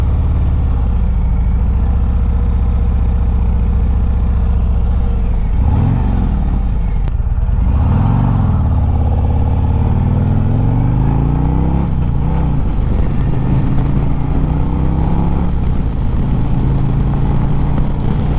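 A new 2025 Harley-Davidson Street Glide FLHX rumbles along on a ride, its engine loud and close with wind roar, rising and falling in pitch as the rider shifts and accelerates.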